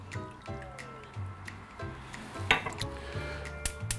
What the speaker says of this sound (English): To that, we are gonna add 1/4 cup of water.